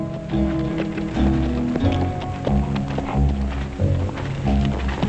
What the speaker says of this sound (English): that's what I call a horse